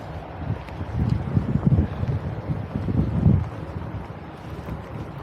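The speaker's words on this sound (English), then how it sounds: "Excuse the noise of the M6 in the background." Motorway traffic on the M6 rumbles beside a canal towpath, a continuous low roar that swells and eases as vehicles pass, mixed with gusty wind buffeting the microphone, with no one speaking.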